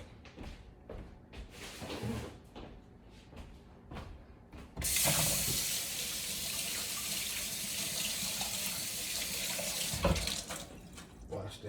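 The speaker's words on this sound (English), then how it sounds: "Wash the hands." Water runs from a kitchen tap for hand washing, a steady close gush starting after some handling noises and continuing to the end.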